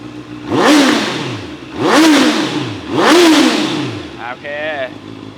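A 2019 Honda CB650R motorcycle engine revs hard three times in quick succession, each rise and fall loud and close, followed by a brief higher mechanical whine.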